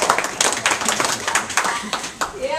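Town hall audience giving a round of applause for a man at a political meeting, dense near clapping across the whole stretch with a voice briefly heard under it.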